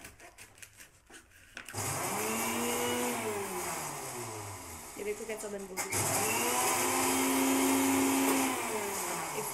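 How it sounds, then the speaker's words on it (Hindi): A kitchen mixer grinder roars loudly and steadily, its motor pitch rising and falling as it runs, with brief talk before it starts. "इसने ग्राइंडर लगा दिया है और सिर्फ शोर आ रहा होगा"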